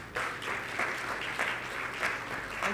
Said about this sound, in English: Applause for her, please.